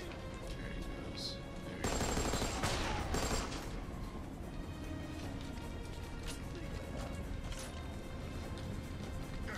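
Dense gunshots and bursts of fire in the Army of Two: The 40th Day video game, loud and continuous, with a heavy crash near the start of the shooting.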